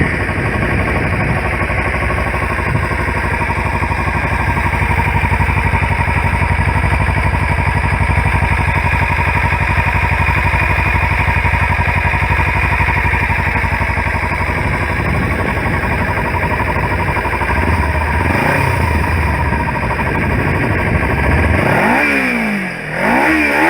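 A motorcycle engine fires up and settles into a steady, close idle, with a brief rev and clatter near the end.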